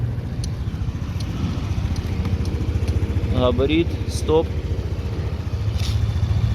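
A Honda Dio 110 scooter engine idles steadily with a low, even putter, close by, while someone speaks briefly over it.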